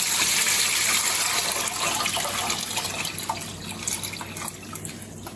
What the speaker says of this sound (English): So we'll just add our water.